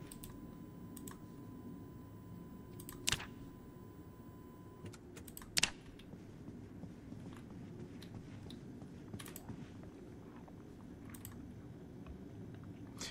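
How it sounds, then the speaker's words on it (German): Soft interface clicks in the survival game Project Zomboid, faint irregular ticks over a low background hum, with two sharper, louder clicks standing out. "diese Geräusche, wenn ich was klicke, tick, tick und so, das mache ich mal aus"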